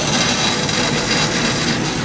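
A bandsaw running on 110 volts gives a continuous, loud, rasping whir, steady and close with a slight rough texture, and no one talks over it.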